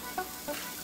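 A chipotle steak quesadilla with melted cheese sizzles in a hot pan, a steady close hiss of frying with a couple of faint clinks or scrapes, no voices.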